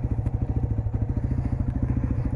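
A Honda Grom motorcycle with a double exhaust idles close by with a rapid, uneven thumping exhaust beat that stumbles and sputters now and then.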